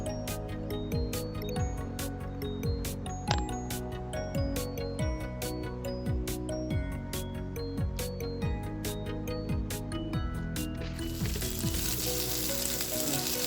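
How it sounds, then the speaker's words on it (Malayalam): Tandoori chicken pieces fry and get turned over in a pan with a continuous close sizzle, accompanied by rhythmic background music, and a louder burst of hissing comes near the end. "ചിക്കൻ ഒന്ന് നമുക്കൊന്ന് മറിച്ചിട്ട് കൊടുക്കാം"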